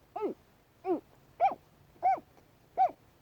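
A voice imitating baby alligator calls: five short, rising, grunting chirps spaced evenly about half a second apart, fairly close and moderately loud.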